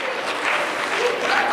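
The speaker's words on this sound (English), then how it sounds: "Let's give them another round of applause." Audience applause and cheering after a musical act at a mental health week event, a loud, dense burst of clapping with scattered whoops.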